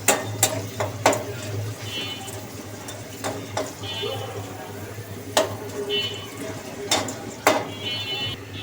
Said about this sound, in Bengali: ভর্তার জন্য মরিচগুলো আগে বাইজে নেব।